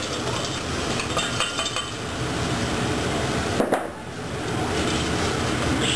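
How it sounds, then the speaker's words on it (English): Chopped holy trinity vegetables hit a pan of hot cooked roux for crawfish étouffée, a loud continuous sizzle and crackle with a brief clatter partway through. "we're gonna dump this Trinity in there"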